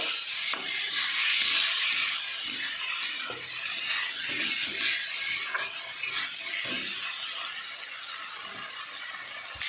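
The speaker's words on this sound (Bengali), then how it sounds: "আলুগুলো ভালো করে মশলার সাথে কষিয়ে নেব" Potatoes sautéed with spices in a pan send up a continuous bright sizzle and hiss, steady and close, with a few soft knocks of stirring.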